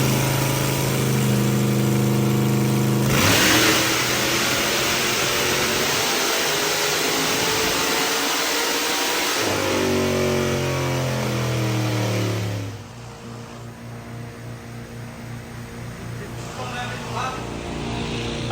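A race car engine on a dyno with nitrous roars loud and steady, climbing through a long rev, then drops back to a lower rumbling idle, with people talking over it.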